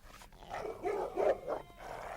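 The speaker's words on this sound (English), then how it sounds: "As the dogs snarled" Sled dogs on a polar expedition team snarl in a few short, close rough bursts, with no one talking over them.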